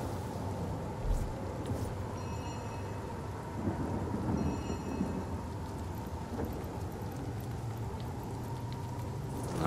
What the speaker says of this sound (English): some rain there